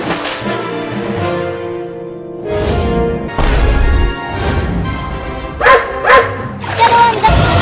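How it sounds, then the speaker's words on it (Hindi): Two dogs bark at each other in repeated loud bursts, close by, heaviest toward the end, with some talk mixed in. "उस कुत्ते ने एक और कुत्ते को बुला लाया"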